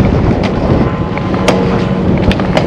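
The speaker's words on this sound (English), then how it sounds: "Ooh, that wind blowing." Gusting wind buffets the microphone in a steady broadband roar with a few sharper bursts, outdoors beside a flatbed truck while coils are being strapped down.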